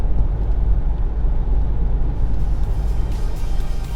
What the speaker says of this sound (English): this car might actually be great to drive, despite the diesel engine sound